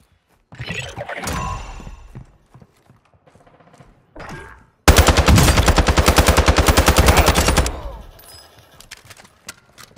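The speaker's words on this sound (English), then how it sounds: "I hear a gang of shooting going on." Rapid automatic gunfire from a Call of Duty match bursts out loud and dense for about three seconds after scattered quieter game sounds, with a final sharp shot at the end.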